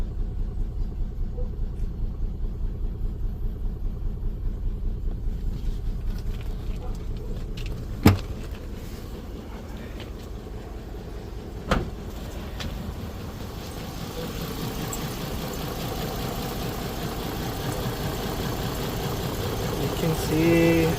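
A Nissan Skyline R34 engine idles unevenly after a tune-up, a steady low rumble running the whole stretch with two brief sharp clicks near the middle and a slight swell toward the end.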